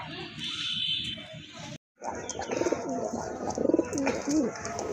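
Rajgolla pigeons coo in a low, repeated murmur amid busy background chatter, with a brief moment of silence partway through.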